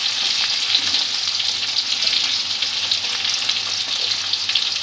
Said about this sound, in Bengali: পেঁয়াজটা হালকা করে একটু ভেজে নেব আগে